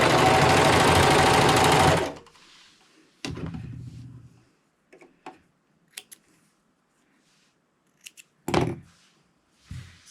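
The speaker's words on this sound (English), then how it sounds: "the first thing we're going to do is serge the 2 ends of the elastic together" Serger stitching the two ends of elastic together, a loud fast mechanical whirr for about two seconds, followed by short runs, clicks and handling thunks.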